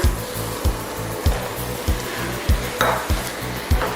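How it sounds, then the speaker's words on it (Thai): Luffa and fresh shrimp stir-fried dry in a hot pan, a steady sizzle broken by repeated rhythmic scrapes of a spatula roughly twice a second, close and continuous. "ผัดบวบพี่จะไม่เติมน้ำนะคะพี่จะผัดแห้ง"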